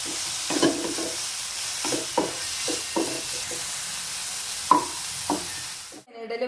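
Yam leaves being stir-fried into a Kerala-style upperi with grated coconut, a spoon scraping and stirring the pan in repeated short strokes over a steady close sizzle, with no talking.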